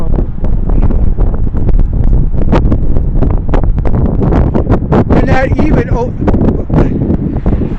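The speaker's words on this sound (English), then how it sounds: "it's a little windy up here" Strong wind on a bridge buffets the microphone in a constant roar while a person talks over it.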